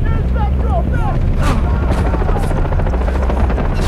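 Helicopter from the video game Far Cry 3, a loud, steady rotor thrum that fills the whole stretch, with chirpy game effects and a few sharp bangs over it.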